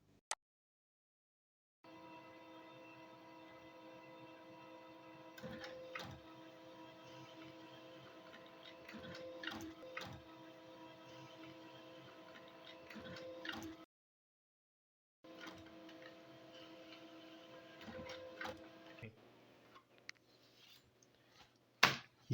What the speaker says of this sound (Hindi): ये हमारे ऑड पेजेस थे वो प्रिंट होकर के आ चुके हैं।